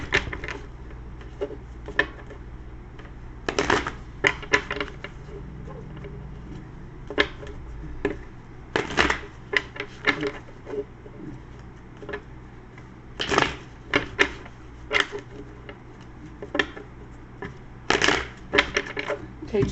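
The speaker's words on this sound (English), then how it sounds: "give me a moment here to pray while I shuffle your cards" Tarot cards are shuffled in bursts, crisp riffling and tapping clatter repeating at intervals up close, with quieter handling sounds between.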